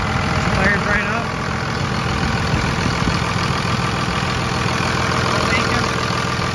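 Second-generation Cummins diesel engine idling just after starting, a steady, loud low rumble with a continuous knocking clatter throughout, with no pause.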